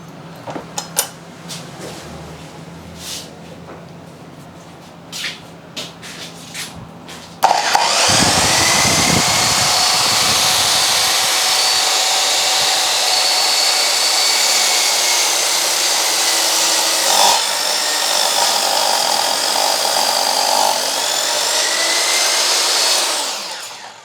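NRT MS 1055 HD miter saw making a bevel cut: after some clicks and handling, the motor starts abruptly into a loud, steady high whine that holds for about sixteen seconds, with a brief dip as the blade bites, before winding down.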